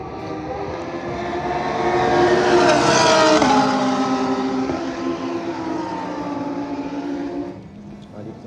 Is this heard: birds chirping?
no